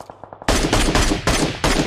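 Rapid automatic gunfire in the PUBG Mobile video game, a few faint distant shots followed by loud, close bursts of continuous firing with brief pauses between them.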